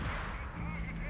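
A .30 cal machine gun fires in Company of Heroes 3, a steady dense clatter of gunfire running the whole moment with no gaps, mixed into busy battle noise.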